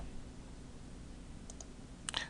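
A computer mouse clicks a few times, faint and spaced apart, over a steady background hiss, with a quick pair of clicks near the end and no talking.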